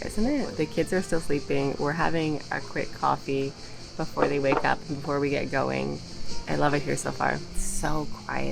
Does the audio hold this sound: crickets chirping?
yes